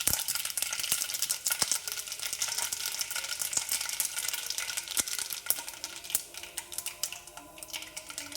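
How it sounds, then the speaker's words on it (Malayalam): Mustard seeds spluttering in hot coconut oil in a home kitchen pan, a dense, steady crackling sizzle broken by sharp scattered pops, close and fairly loud, with no talking. "ഇനി എണ്ണ ചൂടായ ഇതിൽ കടുക് പൊട്ടിക്കുക"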